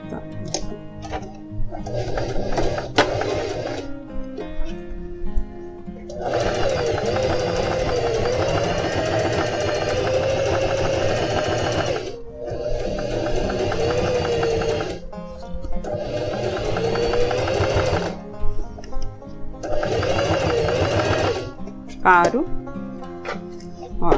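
Sewing machine stitching the side seam of a pair of jeans in several loud bursts of rapid whirring, broken by short pauses and small handling sounds.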